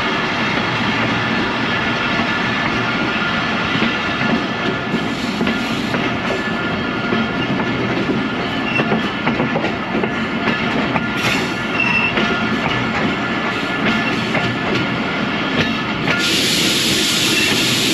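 A passenger train hauled by a GU20 diesel locomotive on a single-line railway near a station, rumbling steadily and loudly close by, with rail clatter and hiss continuing throughout, no talking.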